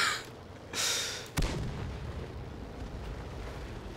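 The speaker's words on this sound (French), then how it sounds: "Aujourd'hui, des explosions et toujours plus d'explosions." Explosions and artillery fire in the World of Tanks tank game: a muffled boom is followed by a sharper blast, then a low rumbling tail fades under the game's background noise.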